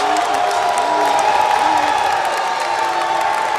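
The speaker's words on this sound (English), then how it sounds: "And the reaction is from the Greencastle crowd" A Greencastle home crowd at a boys high school basketball playoff game roars in a dense, sustained wash of cheering that fills the gym, loud and unbroken.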